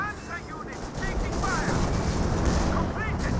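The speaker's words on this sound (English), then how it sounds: "great mortar hit there, as well as the cover being destroyed" In a Company of Heroes 2 match, a mortar shell slams into cover and destroys it, giving a heavy booming impact with rumbling debris under steady game noise while a commentator talks over it.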